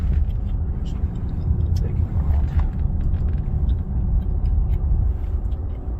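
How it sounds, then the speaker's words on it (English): A car passing along a road makes a steady, close, low rumble that swells slightly and fades. Faint voices murmur underneath. "Got a car coming"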